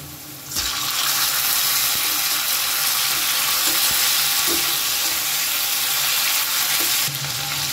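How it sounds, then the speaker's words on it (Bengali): Diced potatoes and freshly added chopped tomatoes sizzle in hot oil in a pan for a vegetarian dish, a loud, steady frying hiss that runs close and unbroken, with a few soft stirring knocks. "এবারে এর মধ্যে দিয়ে দেব কেটে রাখা টমেটো"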